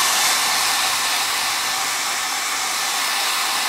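A hair dryer blowing on freshly applied milk paint, a loud, steady, close whooshing roar held throughout without talk.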